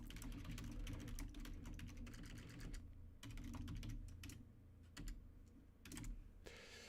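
Typing on a computer keyboard, a rapid, faint patter of key clicks close by in uneven bursts with short pauses, over a low steady background hum.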